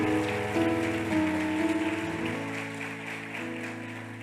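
A church congregation claps steadily, a dense patter of many hands over sustained music in the background.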